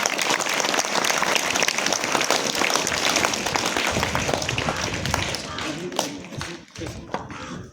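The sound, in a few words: audience applause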